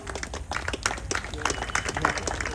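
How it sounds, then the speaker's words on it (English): A conference audience at a final keynote session gives a round of applause, a dense, steady patter of many hands clapping at once, fairly loud and continuous throughout. "give yourselves a round of applause for making it to the last keynote session"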